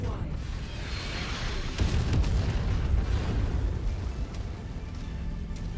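Artillery fire and explosions rumble in the MechWarrior 5 video game, a dense, continuous low boom that swells in the middle and holds steady, loud and heavy throughout, with no talk over it.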